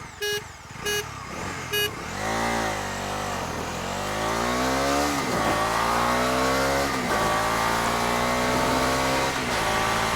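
Three short horn beeps, then a 2025 Bajaj Dominar 250 motorcycle engine revs up through several gears, rising pitch sweeps dropping at each shift, loud and close for the whole run.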